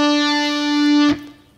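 A single sustained, distorted electric guitar note rings out, then a pull-off cuts it abruptly into a brief lower tone that quickly fades, from a guitar solo.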